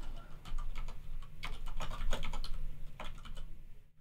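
Rapid, continuous keystrokes as code is typed on a computer keyboard, a steady close clatter of clicks with no speech.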